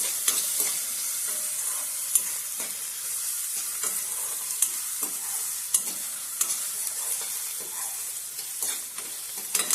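Onions frying in a pan with black-eyed pea leaves being prepared, a bright steady sizzle broken by regular scrapes and taps of a stirring spoon.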